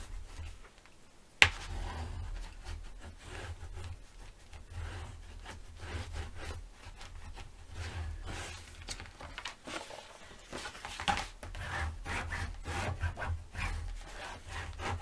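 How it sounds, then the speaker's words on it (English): Paper being burnished on a mini album cover, a soft, close rubbing and scraping in irregular strokes after a sharp tap near the start. "So I'll go ahead and burnish on this side."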